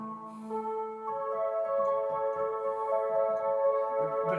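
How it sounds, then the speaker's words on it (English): An electric organ plays on its 16-foot brass stop: sustained, reedy, trumpet-like notes form a slow melody that is soft, steady and unaccompanied, in a live recital. "This is the 16-foot brass."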